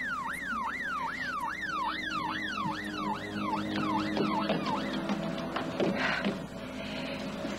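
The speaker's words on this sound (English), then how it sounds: "The ambulance in a squad car." Wailing emergency sirens rise and fall in rapid cycles, loud and close, then fade into traffic noise with another siren tone underneath.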